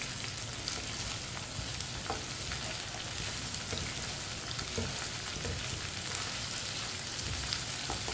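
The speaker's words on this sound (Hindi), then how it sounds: "अब इसे 3-4 मिनट के लिए फ्राई कर लेंगे" Okra for dahi bhindi fries in a pan with a steady, even sizzle, while a spoon scrapes and stirs through it now and then.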